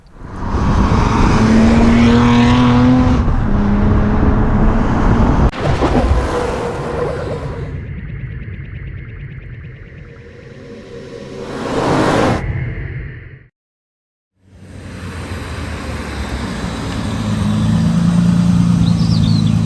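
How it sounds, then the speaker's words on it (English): A Triumph Vitesse engine with a Rotrex supercharger and electronic fuel injection revs loudly and drops, with whooshing passes and rising and falling roars; a brief gap of silence occurs before the engine noise returns. "engine is now supercharged and running electronic fuel injection, running a Rotrex supercharger."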